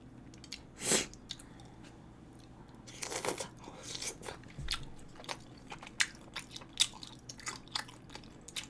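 Chewing on pork lung, with wet crunching bites close to the mic, a few louder chomps early on, then steady irregular mastication sounds with no talking.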